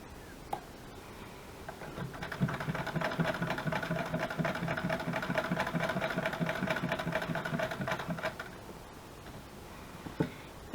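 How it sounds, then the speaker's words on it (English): A sewing machine stitches through a pink lace craft journal, a rapid steady mechanical whir with ticking rhythm for about six seconds after a few start-up clicks, then stops, close and fairly quiet. "And with this sewing machine"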